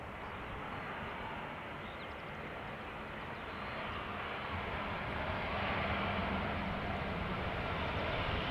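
A United Airlines Boeing 787-8 Dreamliner arriving at Amsterdam Schiphol makes a broad, steady jet roar that swells gradually louder toward the end, heard from a distance outdoors.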